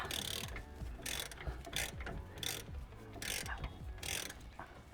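A ratchet loosening a bolt on the brakes of a V8 BMW M3, close rapid clicking in repeated bursts of cranking strokes, separated by short pauses.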